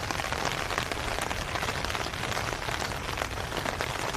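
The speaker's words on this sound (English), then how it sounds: "is the rain too loud for you guys?" Steady rain patters densely and evenly on surfaces in a street setting between Saitama and Kasukabe in Japan, a continuous close hiss with scattered drop impacts and no voices.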